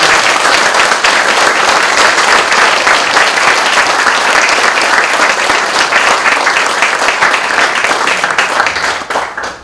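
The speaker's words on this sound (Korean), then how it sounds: "오늘 명예 박사 학위를 받으시는 최종목 박사님께 큰 박수로 축하 한번 해주시기 바랍니다" Sustained applause from a large crowd, dense steady clapping that fills the whole stretch and starts to thin out right at the end.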